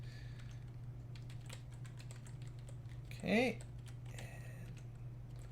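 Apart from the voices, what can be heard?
typing on a computer keyboard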